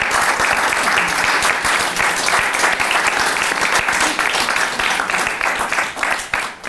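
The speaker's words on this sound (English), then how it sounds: "Give them a big round of applause." Audience at a public debate event gives a panel a steady, dense round of applause, loud and sustained throughout before tapering slightly at the end.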